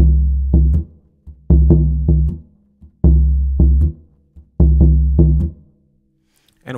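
Third surdo bass drum in a Vila Isabel samba school pattern, deep booming strokes in repeated phrases with short muted taps between, close and loud, played alone.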